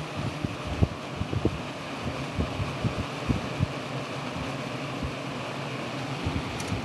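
A 12-inch Galaxy box fan runs on its low setting, giving a steady, soft airy whoosh with a faint low hum and light irregular thumps throughout, no voices.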